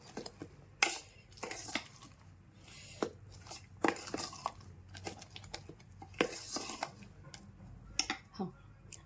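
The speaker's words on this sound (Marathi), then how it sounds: "हे असं चांगल्या पद्धतीने हलवून घेऊ" Dal batter for appe stirred in a vessel, irregular scraping and clinking strokes of a spoon with quiet pauses, close by, with some soft background voice.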